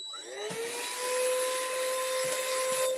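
A small handheld vacuum cleaner starts up with a rising whine, then runs steadily and loudly close by, its high motor tone holding through to the end.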